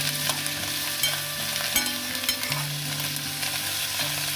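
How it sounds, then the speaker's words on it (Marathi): Chopped onion and coriander sautéing in hot oil in a pan, a continuous sizzle with repeated soft stirring scrapes of a spoon, close and without talk. "आता तेलामध्ये कांदा घालतो. कांदा पण परतून घ्यायचा."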